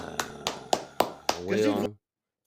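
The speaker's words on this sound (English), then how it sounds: "Everybody clap it up for Jourdin Doodle Brain Paunline." Five sharp, evenly spaced hand claps ring out close by and loud, followed by a short voiced sound before the track cuts to silence.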